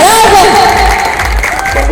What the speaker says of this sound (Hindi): जोरदार तालियां हमारी बहन के लिए।